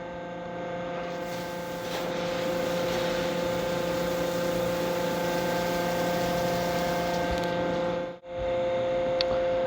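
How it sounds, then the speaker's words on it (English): Coolant system running on a Mazak Nexus 410A-II CNC machine, a steady mechanical hum with pump whine and a wash of flowing fluid, fairly constant throughout with one brief dip near the end. "Let's see what happens when we turn the coolant on."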